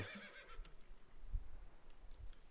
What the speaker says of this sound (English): I think you give the horse an onion, it just neighed at you.